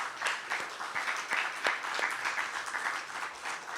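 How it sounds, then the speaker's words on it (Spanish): A church congregation applauds during a Spanish-language sermon, a steady wash of clapping that runs through the whole stretch at moderate distance, with no voices over it. "Dele un aplauso al Señor, por favor."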